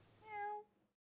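A harassed house cat gives a single drawn-out meow, close and fairly quiet, rising and fading within about half a second before silence.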